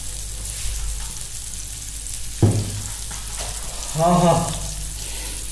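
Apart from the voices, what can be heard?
king fish frying on a tawa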